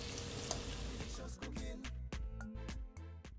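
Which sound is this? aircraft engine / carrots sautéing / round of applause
carrots sautéing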